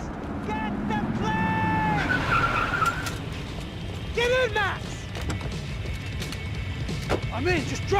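Tires screech and a car engine revs during a driving sequence in Max Payne 3, with repeated skids rising and falling over rumbling game noise and music.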